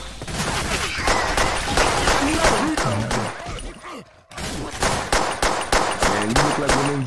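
Rapid machine-gun fire from the video game Left 4 Dead 2, played on a poorly made custom map, with dense bursts of shots and brief breaks, loud and close, with a voice talking over parts of it.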